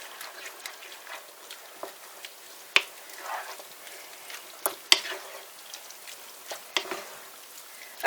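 Mince meat curry stirred in a pan with Bisto gravy mix, a soft bubbling sizzle under sharp scrapes and taps of the spoon against the pan at irregular intervals, close and fairly quiet, no voices.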